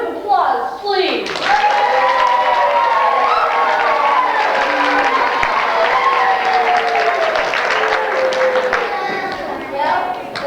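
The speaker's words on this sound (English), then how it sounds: "A round of applause, please." Audience applause and cheering at a 1996 ward party performance, a sustained wash of clapping from a room full of people with shouts mixed in, starting abruptly after a brief voice and tapering slightly near the end.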